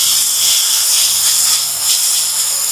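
Onions and crushed spices sizzle and hiss steadily in a hot pan while being stirred, a bright continuous frying crackle close by, with no talking.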